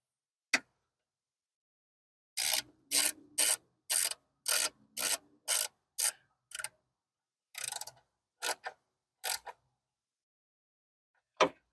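A ratchet wrench tightens the throttle body bolts of a Chevrolet HHR in a crisscross order, giving close, sharp bursts of rapid clicking separated by short pauses, with no talking.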